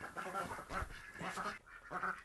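Several ducks quack on a 23,000-gallon pond at a rammed-earth solar home, the calls coming in short overlapping bursts at moderate loudness, with no voices.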